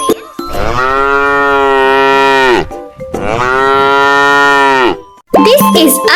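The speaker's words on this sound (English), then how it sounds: "Cow says" Two long, loud cow moos close by, each a drawn-out low lowing call, followed by a brief burst of other sound.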